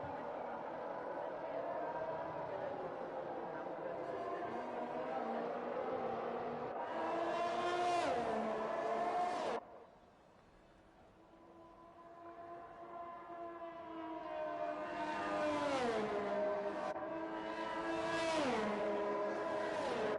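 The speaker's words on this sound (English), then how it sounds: "As we see the drivers head off on their formation lap." Race cars in a sim racing game pulling away on the formation lap, engines rising and falling through the gears in loud, near, sustained revs that dip briefly before building again.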